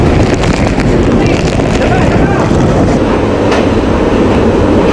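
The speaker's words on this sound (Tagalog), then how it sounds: "Ang hangin nakabibingi sa lakas at masakit sa tenga." Roaring typhoon wind buffets the microphone in a loud, constant rumbling gale with no letup.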